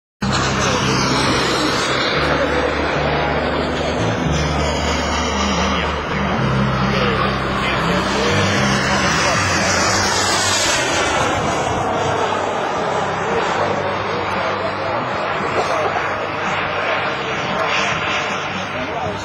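A radio-controlled BAE Hawk turbine jet model flies past at a Florida Jets event, its steady loud jet roar filling the whole stretch with a broad whooshing rush that swells and shifts as it passes.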